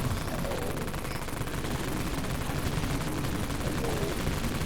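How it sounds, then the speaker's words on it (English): Machine gun in the Dead Frontier video game blasting away in one unbroken, loud flurry of rapid shots that runs the full length of the clip. "We are going to be using miniguns, machine guns, all that good stuff."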